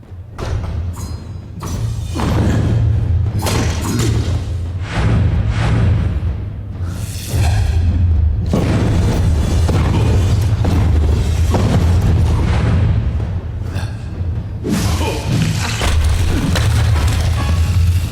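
Fiery explosions burst from a mage's parry in the video game Kingdoms of Amalur: Reckoning, a dense run of loud, close thuds and booms over a steady low rumble, with no talking.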